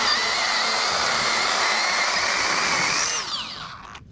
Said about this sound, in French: Ok, on a ni payé la tronçonneuse,